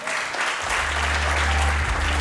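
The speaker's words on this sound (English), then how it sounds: "Big round of applause for them." An audience breaks into applause at a film event, sustained clapping that swells and fills the room with a low rumble underneath.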